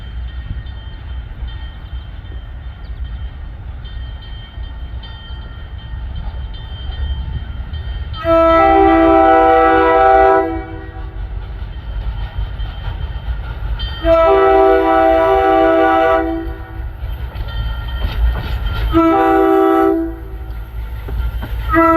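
A train with an RDC and a switcher locomotive passing a road crossing, a low rumble throughout broken by three long, loud horn blasts, each lasting a couple of seconds, close by.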